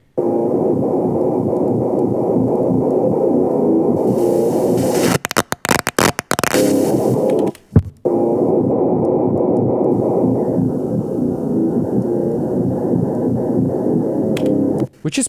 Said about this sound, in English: and now we use the lo-fi, which additionally filters the top end here and decreases the bit rate and adds distortion and saturation.